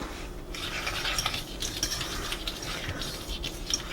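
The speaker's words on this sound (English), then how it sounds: "we're gonna mix the sugar, the cornstarch, and the salt. And we're just gonna whisk that together" A whisk scrapes and clinks steadily around a bowl, mixing dry sugar, cornstarch and salt for a pineapple pie filling. The rhythm is quick and even, close by, with small metallic ticks.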